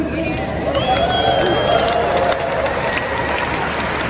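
A Web Summit audience in Lisbon applauds and cheers. The clapping is dense and sustained, with crowd noise and a voice over the top.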